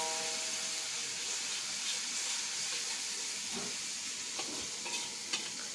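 Anchovies frying in chili paste for sambal tumis, a steady close sizzle with a few light stirring scrapes near the end and no talk.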